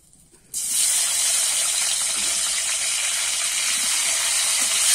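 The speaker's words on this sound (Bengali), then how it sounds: "এবারে কেটে রাখা টমেটোটা দিয়ে দেবো।" Chopped tomato dropped into hot oil already tempered with cumin seeds sets off a sudden loud sizzle after a brief quiet moment, then holds as a steady strong hiss with no voices.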